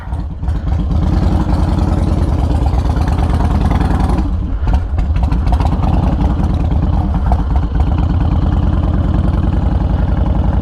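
A project motorcycle engine fires up and runs close and loud, a steady, throbbing idle with a few rough revs and a brief dip partway through.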